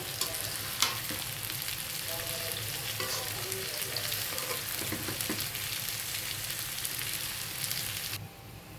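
Fish frying in a pan with onion and potato, mixed with spoon scrapes and taps over a continuous sizzle that drops away abruptly near the end, no talk.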